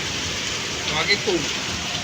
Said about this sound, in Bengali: এখন বৃষ্টি শুরু হয়ে